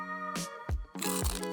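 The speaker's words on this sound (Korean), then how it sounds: "이 씹는 소리는 뭐죠?" Loud, crunchy chewing of snacks bursts close up, broken by short pauses, over a sustained musical tone in the background.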